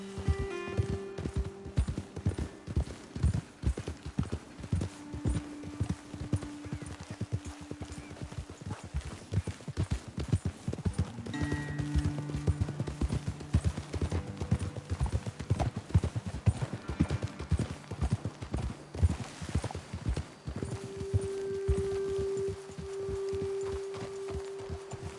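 Several horses walk with steady clip-clopping hooves through the Red Dead Redemption 2 frontier, the rhythmic hoofbeats continuing for the whole stretch alongside occasional faint snorts and tack noises.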